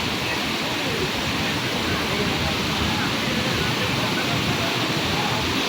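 Rushing water pours at Hogenakkal Falls during high flow, a loud, dense, unbroken roar that fills the whole stretch evenly with no pauses.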